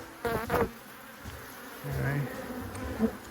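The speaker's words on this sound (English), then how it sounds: "these bees are getting very upset right now" Agitated honeybees buzz around a hive nearby in a low, uneven drone, with a few louder passes and some soft knocks and rustling.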